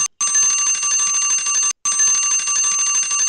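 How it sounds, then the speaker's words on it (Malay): A shrill electric school bell rings loudly and continuously, cutting out briefly before ringing again for a second long burst. "macam bunyi loceng nak suruh pergi rehat dah"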